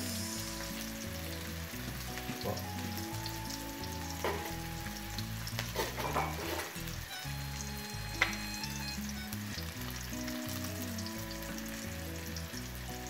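Onions with a splash of fish sauce fry in a pan for pancit, a steady, loud sizzle with occasional stirring scrapes. A voice speaks one brief word.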